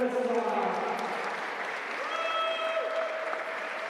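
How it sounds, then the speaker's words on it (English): A crowd at a bouldering competition final claps in a sustained, moderately loud round of applause while an announcer's voice carries over it. "let's welcome them with a really big round of applause and a nice ovation"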